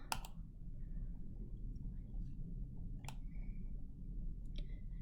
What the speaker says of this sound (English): Let's click on this title, The Mall.